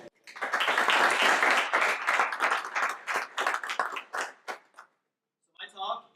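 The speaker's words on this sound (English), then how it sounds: "So I just wanted to give them a quick round of applause." A conference audience gives a brief round of applause that starts full and close, then thins into scattered individual claps and fades out, followed by a moment of quiet before a voice begins speaking.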